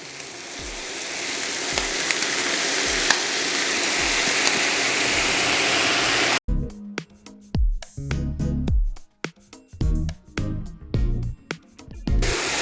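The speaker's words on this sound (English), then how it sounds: "Make sure to fry the rice for about 1 minute" Rinsed rice fries in a pan with garlic, meat and vegetables for Cajun dirty rice, first a loud steady sizzle, then broken bursts of stirring and scraping.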